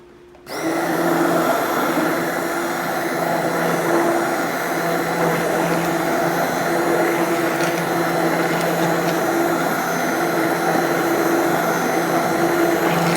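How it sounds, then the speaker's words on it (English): An immersion blender whirs steadily and loudly, mixing xanthan gum into lumpy beef broth for a keto mushroom gravy. It kicks on abruptly and runs as an unbroken motor drone for the rest of the stretch, with no talking. "I had to break out the immersion blender, and we're going to use that to get it blended."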